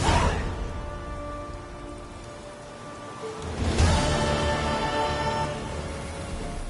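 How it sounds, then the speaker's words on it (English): Steady rain falls in The Witcher 3 game world, a continuous hiss of drops on surfaces with a soft low rumble and a swell in intensity midway. "Looks like rain."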